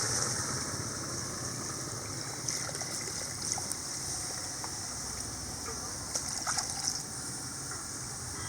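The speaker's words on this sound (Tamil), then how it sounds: "இது வந்து கிரேவிக்கு தேவையான அளவு தண்ணி ஊற்றிடணும்." Water poured into a pan of chicken curry gravy, a steady close trickling and splashing stream that runs unbroken at even loudness.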